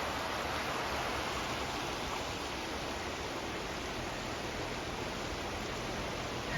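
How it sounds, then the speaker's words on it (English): A brook flows in a garden setting, a steady broadband rush of water that stays even and fairly quiet throughout, with no voices. "Look at the sound of that brook."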